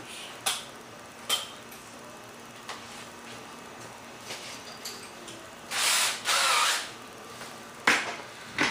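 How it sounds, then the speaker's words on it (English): Power drill boring holes in a micro composite P-51 mold: a few short whirring bursts separated by pauses, with clicks and tool handling between them, close and alone. "drill some holes"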